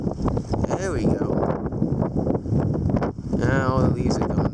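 A strong gust during a February wind storm roars against the microphone, with leaves rustling and blowing through; a person talks and exclaims over the steady loud rush.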